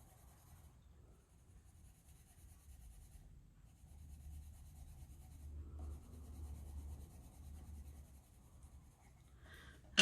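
Soft, steady scratching of a colored pencil shading across paper, quiet and close, continuing for several seconds, ending with a brief louder knock.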